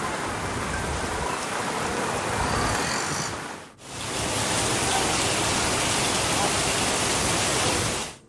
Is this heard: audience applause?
no